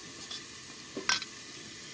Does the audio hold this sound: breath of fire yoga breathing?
no